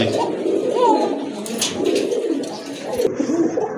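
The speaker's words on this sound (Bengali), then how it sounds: "আরেক জোড়া কোকা কবুতর খুবই চমৎকার ডাকে" Close, repeated soft cooing of Koka pigeons, a low throaty warble rising and falling over steady background noise.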